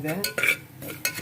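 Spices fry in oil for a mutton biryani while a utensil stirs and scrapes the pan in a few quick bursts under a constant sizzle, close and fairly loud; one word is spoken briefly.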